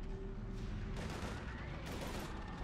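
Sustained heavy gunfire from a Mass Effect 3 battle, dense and continuous across the whole stretch with bursts layered over a constant roar, loud and close.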